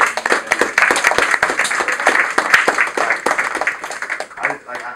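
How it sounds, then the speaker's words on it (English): A high school audience at Van Nuys High School claps for students, a dense run of handclaps with some voices talking over it. "So give them a round of applause for."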